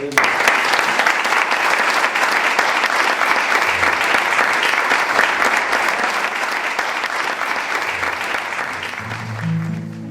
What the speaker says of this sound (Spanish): pido para él un fuerte aplauso